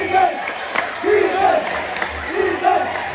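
Spectators at a junior-division basketball game between Lupao and Muñoz roar in rhythmic, repeated chanted shouts about once a second, a dense crowd cheering for their teams that swells and dips in waves.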